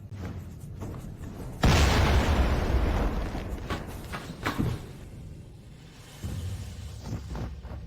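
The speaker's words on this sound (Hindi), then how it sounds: "यहाँ हर तरफ धमाके हो रहे हैं।" A huge explosion booms out suddenly in an action film scene, a loud roaring blast that rumbles and decays over several seconds, followed by smaller secondary bursts and crackling debris.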